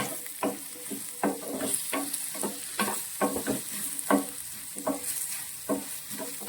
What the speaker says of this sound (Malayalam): ഈ കൂട്ടത്തിൽ നമ്മൾ അതിനകത്തോട്ട് പച്ചമുളകും കൂടി ചേർക്കുവാണ്. ഇത് നന്നായിട്ട് വഴറ്റിയെടുക്കണം.